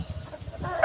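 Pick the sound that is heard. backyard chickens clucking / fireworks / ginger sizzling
backyard chickens clucking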